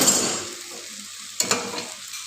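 Cauliflower fritters in a frying pan give a soft, fading sizzle, broken by two sharp clicks and brief scraping stirs, fairly quiet and close.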